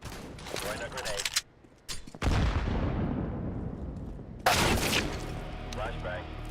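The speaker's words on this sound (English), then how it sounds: "Throwing a grenade." A grenade goes off in Counter-Strike: Global Offensive after being thrown: a sharp burst followed by a long rumbling decay, with earlier gunfire taps and a second loud blast near the end.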